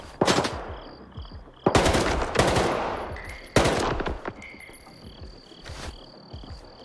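Gunfire from a nighttime firefight in a video game: a rapid burst, then louder clustered automatic volleys and a final shot, with crickets chirping steadily underneath.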